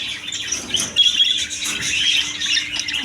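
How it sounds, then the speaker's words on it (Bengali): Budgerigars, some with chicks, chirp and twitter continuously in a bird-shop aviary, a dense, lively chatter of overlapping high calls close by. "এদিকে আছে বাচ্চা সহ বাজরিকা পাখি"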